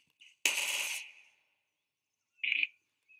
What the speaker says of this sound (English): That is the sound of it about to detonate.